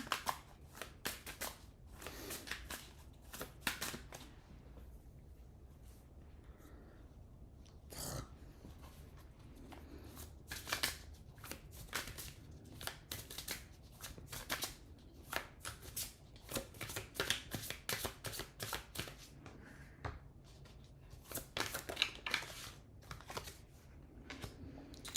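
Cards are shuffled repeatedly at close range, a quick series of riffling snaps and soft slaps with short pauses between bursts.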